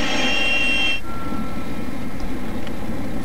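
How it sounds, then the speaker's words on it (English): Both engines of a Fouga 170 jet wind down after parking, a loud whining tone that cuts off abruptly early on, leaving a lower rumbling hum that fades steadily. "Then we crank down both engines"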